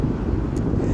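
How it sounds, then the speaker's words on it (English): Steady, loud wind rushes and buffets the microphone outdoors beside a car, a continuous low roar with no speech. "It's windy."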